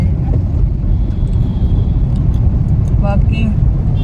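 Loud, constant rumble inside a car on the move, the low road and engine noise filling every moment, with a few faint light clicks and jingles toward the end.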